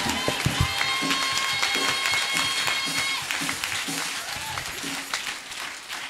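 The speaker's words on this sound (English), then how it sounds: "A better hand clap to Jesus" Church congregation clapping for Jesus during a Sunday deliverance service, a loud burst of many hands that gradually thins and fades, with cheering voices and a sustained tone over it.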